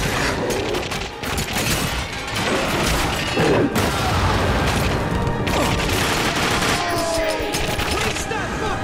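Dense, continuous gunfire in The Darkness 2, a sustained fusillade with heavy impacts and crashes, loud and close throughout, while a voice shouts over the shooting.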